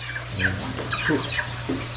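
Hens cluck in short, irregular bursts over a steady low hum, a few birds calling close by.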